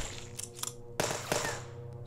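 Gunfire from the zombie shooting game OMG Zombies, sharp bursts of shots over a steady tonal game soundtrack, with two louder, denser volleys near the middle.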